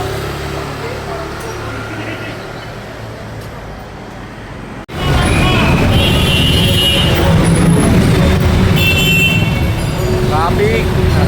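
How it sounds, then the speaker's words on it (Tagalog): Road traffic at night on a ride through Valenzuela, with vehicle rumble and engine noise rising loudly after a brief drop, steady and close, under occasional voices. "Traffic."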